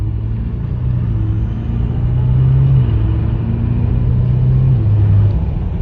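BMW exhaust fitted with a Dahler valve controller, valves held open, idling or holding steady revs with a deep, continuous droning rumble, loud and close throughout with slight swells in pitch.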